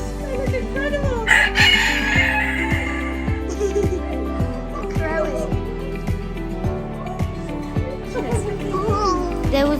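Chickens and roosters at a poultry farm crow and cluck close by, one rooster crowing clearly near the start while people talk and exclaim over the birds.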